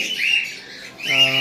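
Two shrill squawking calls from conures and cockatiels at a bird farm, loud and near, separated by a short pause, with a voice speaking under the second call.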